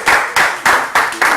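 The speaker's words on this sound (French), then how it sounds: "Merci de l'applaudir quand même." Applause on a TV talk show set, five bursts of clapping rising and fading in quick succession, each starting sharply and tailing off, loud and close with no talk over it.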